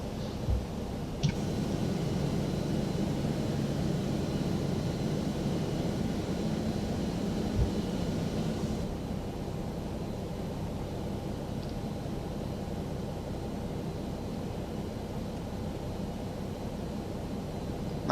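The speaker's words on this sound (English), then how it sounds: "That's engine 1 starting." Engine 1 of an Airbus A321-200 spooling up in the X-Plane 12 flight simulator, a steady low roar and hiss with brief clicks, easing to a quieter hum partway through.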